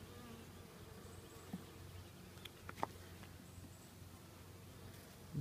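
Honey bees buzz steadily around an open hive during an inspection, a continuous moderate hum close by with a few brief louder passes, and no talking.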